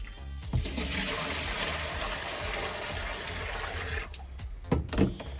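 Running water rinses a human hair full lace wig, a loud continuous splashing flow that stops near the end, followed by a few wet handling sounds and drips.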